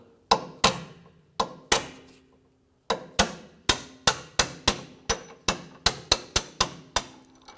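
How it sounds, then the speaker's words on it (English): A hammer strikes a small punch to drive the axle bolt out of a 2004-2008 Acura TL front suspension, sharp metallic blows, sparse at first and then a quick, steady run of ringing hits close by. "just going to use our small punch right in the center and just work that bolt through."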